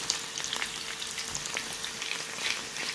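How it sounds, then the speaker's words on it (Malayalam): Chicken pieces for Chicken Manchurian deep fry in oil, making a dense, even hiss of bubbling and crackling at close range with no voices. "ഞാൻ ഡീപ് ഫ്രൈ ആണ് ചെയ്യുന്നത്."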